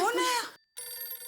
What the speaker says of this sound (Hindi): आया फोन आया।